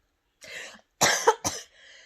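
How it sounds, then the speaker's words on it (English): A breathy exhale is followed by two harsh, close coughs in quick succession, then a fading rasp. "I have a cough, obviously"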